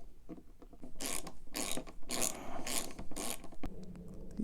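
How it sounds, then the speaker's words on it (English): Ratchet clicking out T25 Torx bolts holding a car's power window motor, a series of close, quick clicking bursts in rhythmic strokes, ending with a faint metallic clink. "there are 3 bolts holding this in, and these are 25 Torx, and so it's just a matter of undoing those."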